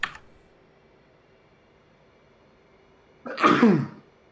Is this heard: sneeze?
yes